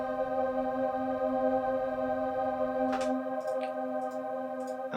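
A synth pad made from voice samples holds a steady, buzzing harmonic chord, fairly quiet and continuous, with a few brief breathy flutters near the end.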